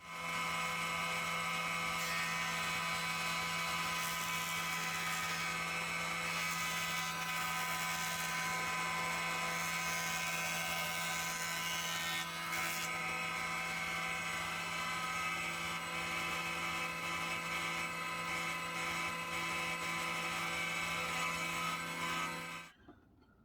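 Power planer shaving the edges of pine shelf boards, a steady loud high-pitched whine with a constant hum running unbroken for about 23 seconds before cutting off abruptly.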